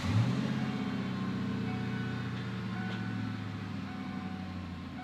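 Ford Mustang GT convertible engine idling in gear after a vehicle speed sensor replacement, a faint, steady low rumble with a brief revving blip at the start.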